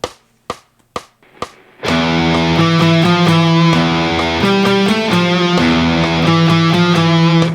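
Distorted electric guitar plays a riff built on a minor second: a few sharp muted picks, then a loud sustained chugging riff with heavy distortion.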